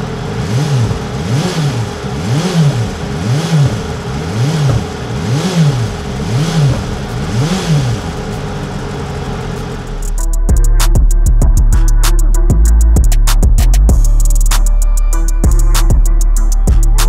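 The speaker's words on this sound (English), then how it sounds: "that bike runs hard, guys. It's already at 225 on the dyno." A BMW M1000RR superbike runs on a dyno: the engine first sweeps up and down in a rhythmic rising and falling drone, then roars loudly at high revs with clattering mechanical noise, close and dominant.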